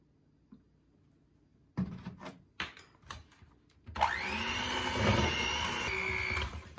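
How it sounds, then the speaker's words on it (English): Cookie dough for Halloween cookies is mixed: a few clunks and knocks, then a steady whirring motor drone holds loud and close until the end, with no voices. "Then I will mix it."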